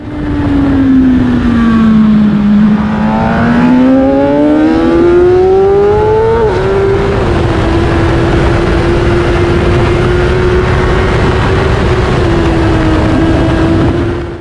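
A JSX 1000 road motorcycle ridden hard on the Donington track in February, its engine droning loudly and continuously, pitch rising through a gear then dropping at a quick short shift before holding steady, close and alone.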